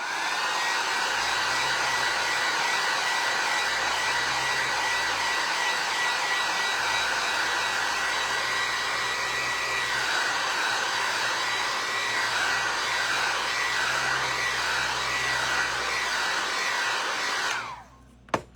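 A hair dryer blows steadily for about seventeen seconds, drying paint on a vinyl record being made into fall and winter decor, then cuts off abruptly at the end with a brief click.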